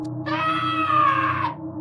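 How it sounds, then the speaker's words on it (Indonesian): A loud scream rings out from a middle seat on a night bus travelling from Jakarta to Bali. It is one sustained, strained cry of about a second and a quarter, with no talk over it. "Lalu, tiba-tiba dari kursi tengah, terdengar jeritan keras."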